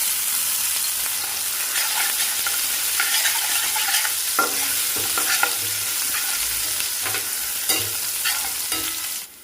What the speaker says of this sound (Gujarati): તો તેલ ગરમ થઈ જાય ને એટલે આપણે 1 ટીસ્પૂન જીરું નાખી દઈશું અને એની અંદર આપણે વાટેલા મરચાં અને લસણ નાખી દઈશું.